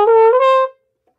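A trombone sounds one brief, steady brass note that steps slightly higher before cutting off cleanly, leaving silence.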